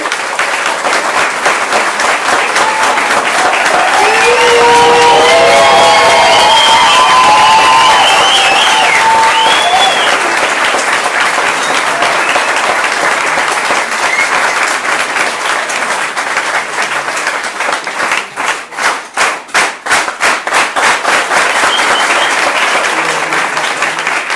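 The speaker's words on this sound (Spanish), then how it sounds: "nos tomamos el momento para que le extendamos un aplauso a Manuel Sarmiento" Loud, sustained applause with cheering voices from a large audience at a Colombian political commemoration in honor of a Polo party legislator, a dense wash of clapping that swells, then thins into a few louder scattered claps near the end.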